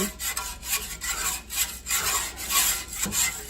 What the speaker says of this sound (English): It just takes a little bit of stirring.